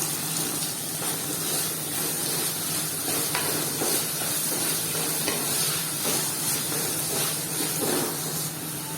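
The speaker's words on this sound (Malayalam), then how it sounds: "ഇനി നമുക്ക് അതിലേക്ക് സവാളയും പച്ചമുളകും കറിവേപ്പിലും ഇട്ട് കൊടുക്കാം കേട്ടോ ഇളക്കി കൊടുക്കാം" Onion, green chili and curry leaves sauté in hot oil for an etta fish curry, giving a steady, close sizzle and hiss with light stirring scrapes and taps throughout and no talking.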